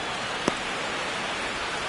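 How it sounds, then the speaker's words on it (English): Heavy rain pours down over a baseball game, a steady broadband hiss with no voices, broken by one brief sharp tick near the start. "This rain is not letting up."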